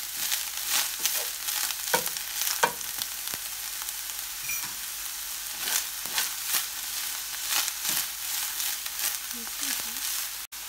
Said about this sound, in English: And we're going to go ahead and add our broccoli. Just go ahead and mix it in.